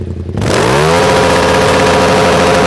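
A motorcycle engine starts up and revs hard, its pitch sweeping upward, then holds a loud, steady roar close by with no talking.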